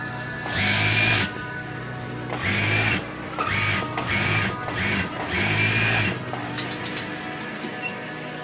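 A sewing machine stitches a fringed pillowcase in several loud bursts of rapid mechanical whirring, separated by brief pauses, ending with a quieter stretch.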